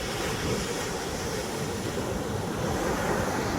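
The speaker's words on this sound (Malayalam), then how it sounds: "കടൽ മൊത്തം ക്ഷോഭിച്ച് കിടക്കുകയാണ്" Rough sea at Kollam beach in the afternoon, with big waves crashing in a continuous loud roar of surf and wind buffeting the microphone, nearby and unbroken.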